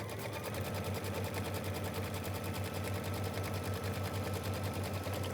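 A sewing machine stitches a quilt seam in a steady, continuous whir with rapid needle ticking, close and even throughout.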